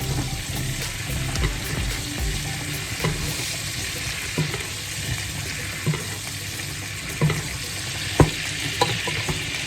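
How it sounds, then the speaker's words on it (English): Steak sizzles steadily in a hot pan while melted butter is spooned over it, a continuous bright crackle broken by occasional sharper spits and pops, close and fairly loud with no talking. "start to top the steak with that beautiful melted butter"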